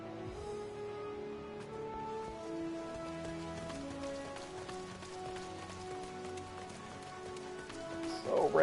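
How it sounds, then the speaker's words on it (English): Steady rain in the video game Final Fantasy XIV, a soft continuous patter under gentle musical tones, with a louder rush swelling at the very end. "So rainy."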